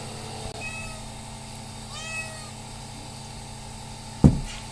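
A small kitten at home gives a couple of short, high, thin meows at moderate distance over a quiet room hum. A sharp thump follows near the end.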